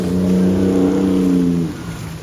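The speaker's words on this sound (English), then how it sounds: "they have a lifted truck here just tearing it up through the water" A lifted truck drives through flood water in a submerged apartment complex in Aventura, its engine droning loud and close with steady harmonic tones that drop away near the end.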